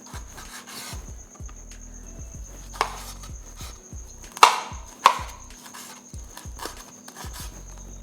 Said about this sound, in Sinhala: ඒත් එක්කම අපි රෙඩ් පෙපර් එකක් කපා ගන්නවා